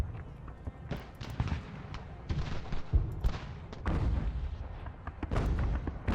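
Cannon fire on a battlefield in Ultimate General: American Revolution, with repeated heavy booms arriving in irregular bursts over a continuous rumble of battle noise, loud and dense throughout.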